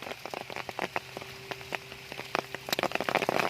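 Rain falling outdoors while driving past on a fishing trip, a steady patter of drops striking a surface with scattered sharper taps, close and continuous.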